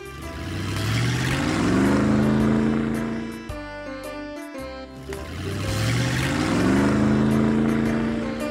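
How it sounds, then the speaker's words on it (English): Aircraft carrier with aircraft: two loud rising engine surges, propeller-like roars climbing in pitch, separated by a short gap of mechanical droning with a brief dip, no speech. "Aircraft carrier."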